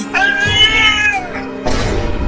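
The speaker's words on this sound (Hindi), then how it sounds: "बिल्ली भी मुझे काटने वाली है" A cartoon cat gives a loud, drawn-out meow with a rising and falling whine, ending in a sharp thump-like hit, with no talking over it.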